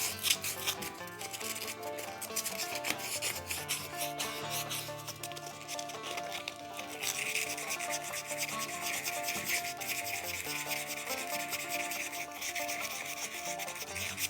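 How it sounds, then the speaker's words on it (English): Continuous scratchy sanding on the bowl of a carved wooden spoon, close and steady with a rapid back-and-forth rubbing rhythm, alongside faint background music. "I kind of like the idea of leaving these facets in and just kind of sanding the bowl itself."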